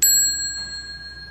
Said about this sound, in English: This bell means the end of the meditation session.